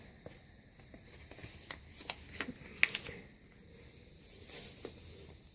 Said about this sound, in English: And I fold the paper in half.